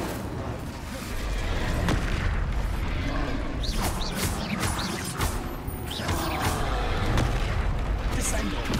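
Spell explosions from Confringo and Incendio blasts in the Hogwarts Legacy video game, a steady run of loud booming impacts and crackling bursts layered over continuous game sound.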